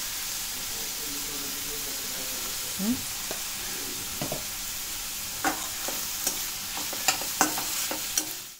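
A large chopped onion, salted, fries in an oil-filled pan for elephant yam curry, giving a steady close sizzle broken by spatula stirring scrapes and clicks that grow more frequent toward the end.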